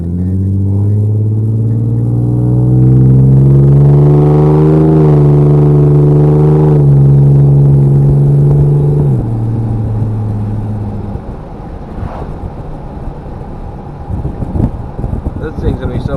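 A pickup truck with an upgraded exhaust accelerating hard, its loud engine note rising steadily through the gears, then easing off into wind and road rumble with some talk.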